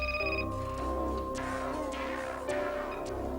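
A telephone rings in a domestic setting with a steady, trilling electronic tone that repeats in short bursts over a constant background hum, moderately loud and close.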